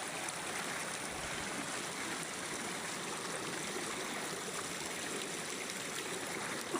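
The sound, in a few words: natural spring water flowing out of the ground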